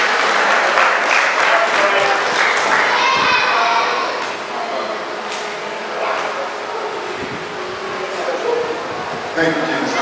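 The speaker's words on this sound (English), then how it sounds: "give a well-deserved round of applause to Brother Ted Cromwell" A convention audience applauds a speaker being honored, a loud, dense clatter of clapping that softens midway, with scattered voices and cheers mixed in.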